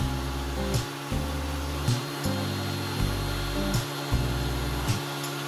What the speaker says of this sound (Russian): проверка работы без пылесоса